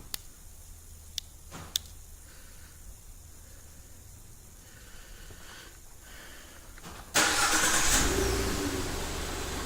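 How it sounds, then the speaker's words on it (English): Remote-started car engine: after quiet outdoor ambience with a few faint clicks, the engine cranks and catches, then settles into a loud, steady idle close by. "we're going to activate remote start by pressing lock, unlock, lock"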